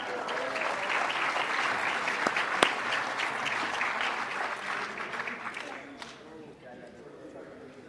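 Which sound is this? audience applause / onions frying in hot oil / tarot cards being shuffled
audience applause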